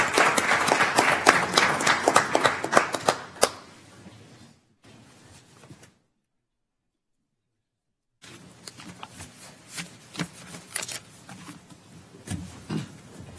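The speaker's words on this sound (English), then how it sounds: "You can have a round of applause" A round of applause at a county commissioners court meeting: several seconds of scattered, moderately loud clapping fade into near silence, then sparser claps and room noise return.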